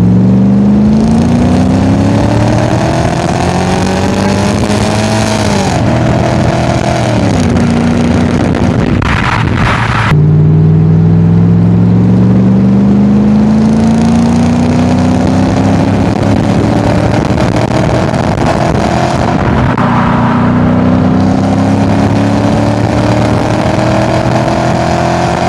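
An Audi S8 with a new exhaust accelerates hard, its engine rising through the gears in long loud pulls, briefly dropping between shifts, recorded close up from inside or alongside the car.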